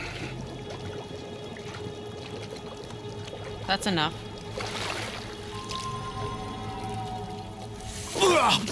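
A head is held under hot water in the God of War video game: splashing, pouring water with bubbling bursts near the start and again at the end, under a voice speaking briefly in the game.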